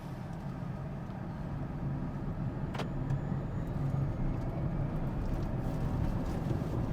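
The cheapest Tata electric car accelerates hard from a standstill, giving a steady low road and motor rumble heard from inside the cabin that swells slightly as speed builds.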